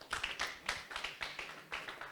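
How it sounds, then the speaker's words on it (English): A small audience claps for Engineer Tunde at a Linux shell-scripting refresher session, a sparse scattering of quiet hand claps in loose rhythm, faint and thin, with no talk. "Please let's give Engineer Tunde another round of applause."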